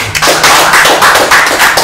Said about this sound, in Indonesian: Tepuk tangan buat para staf ini ya.